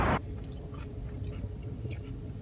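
Close, wet chewing of khanom chan, a soft Thai layered dessert, steady and squishy for a couple of seconds after a brief loud burst at the start, with no voices.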